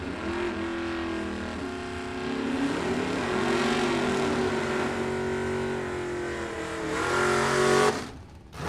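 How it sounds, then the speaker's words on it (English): A Camaro launches hard at a drag strip, its loud engine roaring and holding high revs along the lane before cutting off abruptly near the end. "There's a Camaro in the other lane down in 1160."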